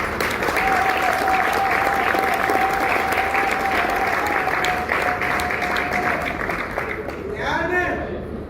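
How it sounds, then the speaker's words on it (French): Loud, dense applause from a large audience at an evening awards ceremony, sustained steadily for several seconds before thinning out near the end, with a faint tone running beneath it. "Merci d'applaudir aussi à ce partenaire."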